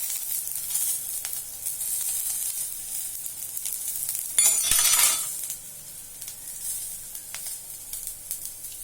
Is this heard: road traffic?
no